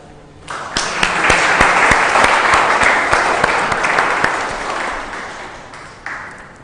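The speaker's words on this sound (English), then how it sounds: "With a round of applause, kindly help me welcome Ms. Soraya." A dense burst of audience applause welcomes a speaker onto the stage at a student event, many hands clapping steadily and loudly for about six seconds before tapering off, with a few sharp individual claps standing out.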